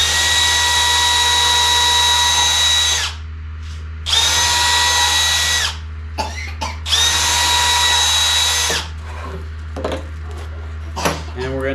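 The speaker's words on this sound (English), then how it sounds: "I'm going to take a drill bit and drill some pilot holes in here just to keep this from splitting as much." A power drill bores pilot holes in a wooden board for homemade stilts, whining loudly in three long bursts separated by short pauses and followed by a few clicks and knocks.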